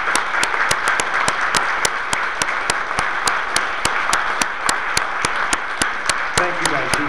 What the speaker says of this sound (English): Give them a round of applause because they were amazing.